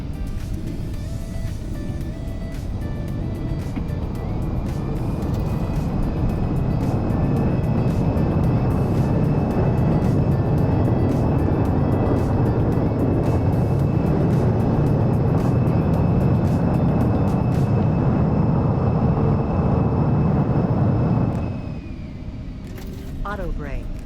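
Aircraft in the X-Plane 11 flight simulator landing and braking, a loud sustained engine and rolling roar with a steady tone that runs for about twenty seconds and then drops off sharply.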